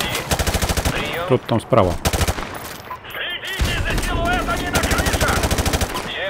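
Rapid automatic gunfire in Call of Duty: Modern Warfare Remastered, with loud, close bursts of quick repeated shots broken by short pauses and someone talking briefly in between.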